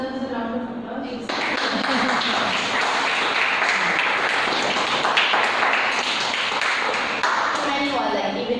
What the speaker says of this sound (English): That answer deserves a round of applause.